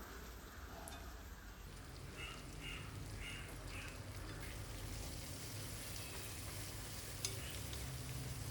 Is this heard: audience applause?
no